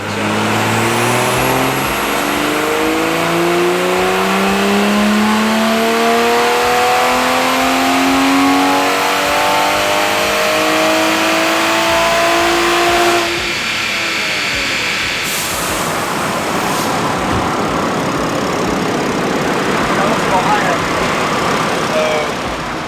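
A Toyota Supra engine, tuned, revs hard on a dyno and steadily climbs in pitch through the gears for a long stretch, then drops off into a loud, rough roar and whoosh.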